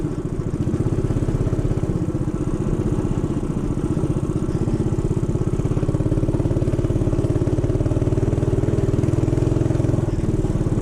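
A small motorbike with a centrifugal clutch rides along a canyon trail, its engine giving a steady, buzzy, close drone that builds slightly louder toward the end.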